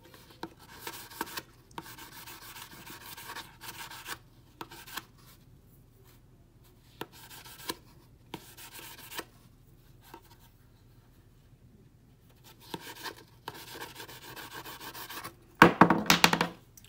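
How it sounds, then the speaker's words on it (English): Light hand sanding of a pen blank for an epoxy-free pen finished with Crystalac, heard as soft intermittent rubbing and scratching strokes in short bursts, close and quiet, ending with a louder clatter. "a light sanding."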